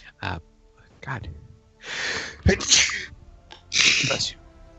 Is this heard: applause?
no